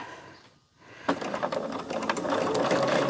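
A sewing machine stitches after a brief quiet start, its needle chattering in a steady, fast mechanical rhythm up close and running continuously to the end.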